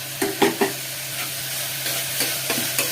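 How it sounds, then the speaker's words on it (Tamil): Garlic paste stirred in a hot pan for a drumstick gravy: a few sharp scraping strokes of a spoon near the start, then softer, sparser scrapes over a low steady hum. "நல்லா மிக்ஸ் பண்ணிக்கோங்க"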